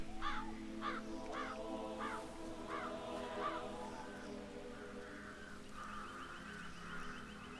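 Crows caw repeatedly in a Hitman 3 countryside level, a rhythmic run of about six harsh calls at steady intervals, fairly close, over a low ambient game background.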